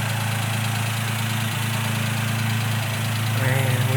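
A right-hand-drive kei truck's small engine runs steadily throughout, a close, even mid-pitched drone with a faint knocking pulse and no change in pace.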